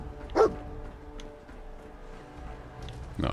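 A dog, the Dogmeat companion in Fallout 4, gives a single short, close bark near the start, followed by quiet game ambience and faint rustling.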